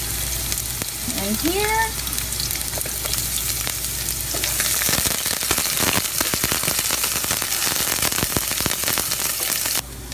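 Onion frying in olive oil in a pan, a steady loud sizzle with crackles throughout, with a brief voice early on and a rising splash of noise when the onion goes in.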